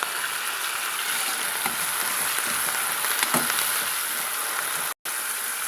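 A large chopped tomato sautés in a pan for tomato vermicelli, giving an even, steady sizzle close by with faint stirring scrapes and no talk.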